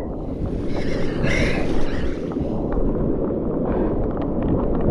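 Strong sea waves crash and surge continuously at a fishing spot, loud and close, with wind buffeting the microphone throughout.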